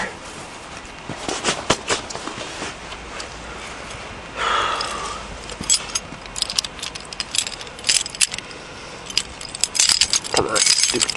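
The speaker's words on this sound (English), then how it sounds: "Come on, stupid keys." A bunch of keys jangles and clinks repeatedly up close, in irregular bursts of metallic rattling that run through most of the stretch, with occasional scraping and handling noise.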